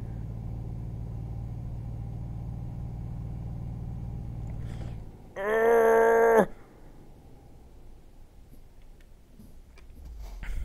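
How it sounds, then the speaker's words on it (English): A truck brakes hard in the Euro Truck Simulator video game. A steady low engine drone gives way to a loud, tonal brake squeal lasting about a second, followed by a quieter rumble. "we're gonna slam on the brakes really hard here"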